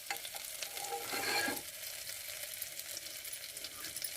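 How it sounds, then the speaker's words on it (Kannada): Cumin seeds and bay leaves sizzle in melted butter in a pan, a steady close crackle that swells briefly when stirred and then settles into an even hiss. "ಈಗ ಬೆಣ್ಣೆ ಕರಗಿದೆ, ಜೀರಿಗೆ ಹಾಕ್ತಾ ಇದ್ದೀನಿ"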